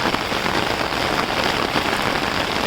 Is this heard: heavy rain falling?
yes